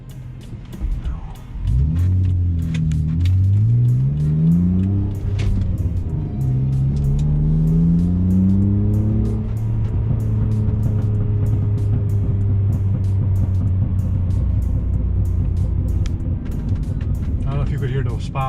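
A tuned BMW E46 engine revs up and down several times, held around 4,000 rpm, then lets off the throttle with loud exhaust pops and crackles scattered over a steady idle rumble, heard close.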